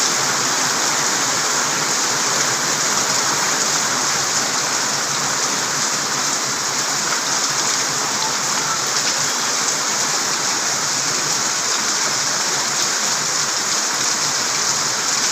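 Torrential rain keeps up an unbroken, loud rushing hiss close by, dense and uniform throughout with nothing else standing out.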